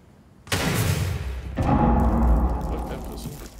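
A grenade explosion in a tactical shooter video game: two sudden heavy booms about a second apart, the second followed by a long rumbling decay, loud and close.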